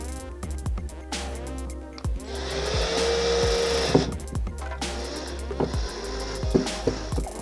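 A power drill with a Phillips bit drives two screws into a motorized sit-stand desk frame, revving in short whirring bursts with clicks and clunks, close and loud, with no talking.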